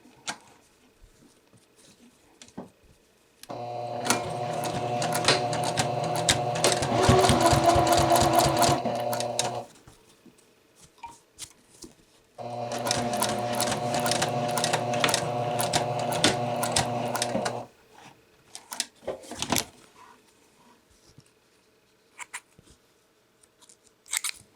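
A sewing machine stitches a bound buttonhole through several fabric layers, running in two steady bursts of about six seconds each with a short pause between them, close and fairly loud, with faint handling noises afterward.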